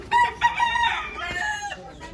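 A rooster crows once, a loud, drawn-out call that rises and then trails off, close by with no other sounds competing.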